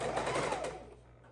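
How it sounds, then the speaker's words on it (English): A sewing machine runs briefly while stitching quilt four-patch blocks, a close whirring buzz that fades out within about a second. "we're going to go ahead and turn on our sewing machine and get these all sewn together, creating our 4 patches"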